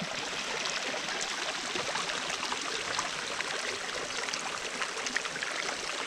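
Steady, gentle rush of creek water flowing continuously, a soft even babble with no voices.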